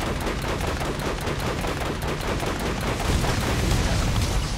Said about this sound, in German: Einfach weiterschießen.